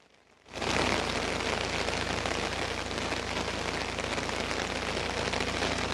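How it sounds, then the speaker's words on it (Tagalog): Heavy rain pours down steadily after a sudden onset, a dense, loud, continuous hiss with no talk, in an area hit by a typhoon's landfall where houses were destroyed and trees toppled. "nagsimula na namang bumuhos yung malakas na ulan dito."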